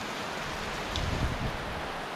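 Rain falls as a steady, even hiss of fine noise with no distinct drops standing out, constant throughout and without voices.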